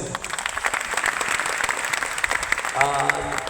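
An audience at a finance meeting breaks into a burst of dense applause that swells across the room, with a voice speaking over the clapping near the end.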